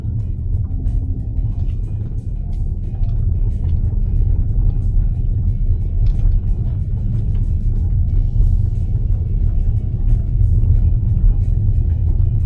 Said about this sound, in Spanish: Vamos a pasar por nuestra zona de pavimento irregular